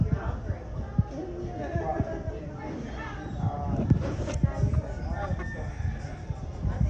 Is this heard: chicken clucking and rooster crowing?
yes